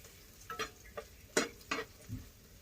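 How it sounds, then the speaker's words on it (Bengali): Dried chillies and onions frying in a pan for a okra bhorta, faint soft sizzling with a few brief stirring scrapes and clicks. "শুকনো মরিচ আর পেঁয়াজ ভেজে নিচ্ছি ভেন্ডি ভর্তা বানানোর জন্য"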